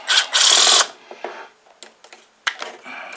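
Wrenches work on a stuck bolt on a Toro push mower, giving a loud metallic clatter up close, then scattered ratcheting clicks and taps.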